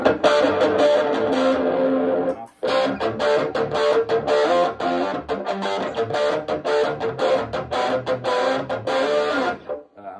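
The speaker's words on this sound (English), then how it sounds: "this is their idea of what, you know, their overdrive sort of 80s distortion sound" A heavily overdriven electric guitar with an 80s-style overdrive distortion plays chugging chords and riffs, thick and buzzy, with brief pauses between strummed phrases.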